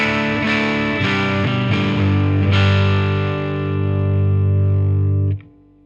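Heavily distorted electric guitar chords from a 2021 Fender Vintera Jazzmaster ringing loud through a Deluxe Reverb tube amp, a few strummed hits then a long sustained chord that cuts off abruptly.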